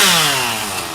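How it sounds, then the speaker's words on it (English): Chainsaws roar loud and close, clearing storm damage, one engine's pitch sliding steadily downward as it cuts through wood, continuous for the whole second with no voices. "is that sweet sound of chainsaws"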